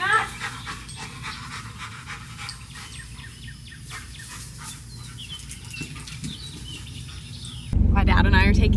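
Max, a large dog, pants quickly and steadily close by during a Jeep ride, with bird chirps and a voice in the background, then a loud burst of noise at the end.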